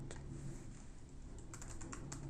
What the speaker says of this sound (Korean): 그리고 더블 코테이션으로 막으시고 hello X 플랫폼을 타이핑을 해보겠습니다.